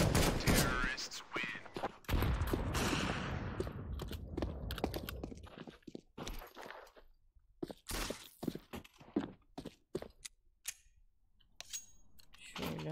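Sniper rifle gunfire in Counter-Strike: Global Offensive, a loud opening burst of shots with a decaying echo, then scattered sharp cracks and clicks spread over the clip, with someone talking in between.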